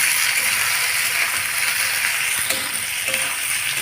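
Chopped tomato sizzles steadily in a frying pan for an egg dish, a dense continuous hiss with a few light scrapes and clinks of stirring near the end.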